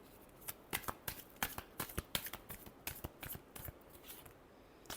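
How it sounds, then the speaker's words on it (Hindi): Tarot cards being shuffled by hand in repeated quick riffles and flicks, close and crisp, with a steady run of sharp papery bursts and no talk. "लास्ट शफल, ये एक और करना पड़ेगा।"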